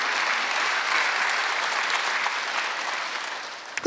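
A church congregation at a Sunday worship service claps together in a dense, sustained round of applause that fades slightly toward the end, with a few louder claps at the finish.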